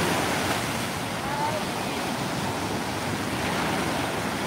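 Surf rolling in steadily at Olas Altas beach, a broad, constant wash of waves that stays loud and unbroken throughout, with no distinct voices standing out.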